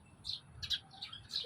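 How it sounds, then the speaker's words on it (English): A bird at the beach gives four quick, high chirps spaced evenly over about a second, fairly faint above a low background rumble. "You can see a bird there,"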